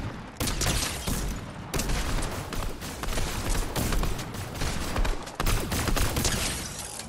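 Dense, loud gunfire from a video game gun-game match in a modern mansion, continuous rapid shots and bursts filling the whole stretch, with a few brief pauses.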